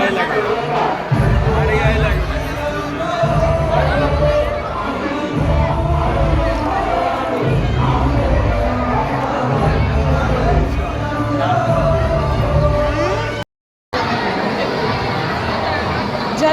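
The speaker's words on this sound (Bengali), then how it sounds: "জাস্ট ভিড়টা দেখো বাপ রে বাপ" Dense festival crowd at a Durga Puja pandal on a rainy day, thick babble of many voices and shuffling with a low steady drum-like thump, loud and close, with nearby people talking throughout.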